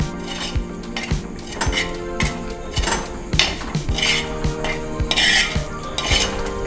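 Raw prawns being mixed by hand with spice marinade in a bowl, giving repeated soft wet squelches and regular clinks of a utensil against the dish, close and steady throughout.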